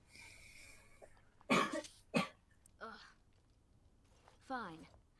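A cough, likely from a game character in a Dragon Age: Origins scene, comes as a few sharp bursts across a quiet stretch.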